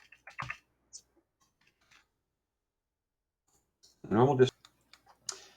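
A few scattered, quiet computer keyboard taps click at irregular intervals, with a brief spoken voice in between, while a spreadsheet formula is typed.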